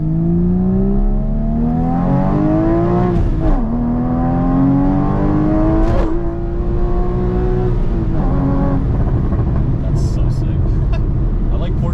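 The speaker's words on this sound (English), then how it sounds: "They sound like just like race cars." A Porsche 981 Spyder engine revs up and down repeatedly with a loud, rising whine like a race car, while people talk nearby.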